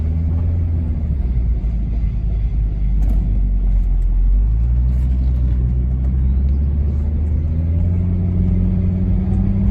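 A Volvo V70R wagon, brakes a little rusty, pulls away gently, its engine rumbling low and rising in pitch through second gear, dropping briefly at a shift, then climbing again into third, heard from inside the car.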